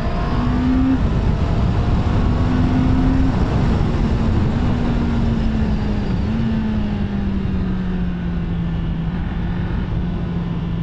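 A Honda CBR650R with E-Clutch is ridden on the road, its engine droning steadily up close under loud wind rush, with the pitch stepping down across downshifts.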